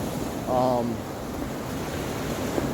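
Surf washing onto a beach during a shoreline walk, a steady wash of breaking waves with wind noise across the microphone and a brief voice near the start.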